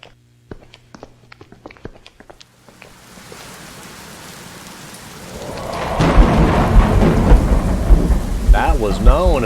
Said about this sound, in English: That was known as lightning.